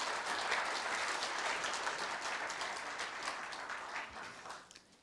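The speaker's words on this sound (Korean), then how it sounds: "큰 박수 부탁드립니다." A crowd applauds at a university staff retirement ceremony, with dense, steady clapping that fills the room and then tapers off at the end.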